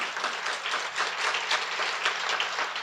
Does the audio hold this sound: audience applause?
yes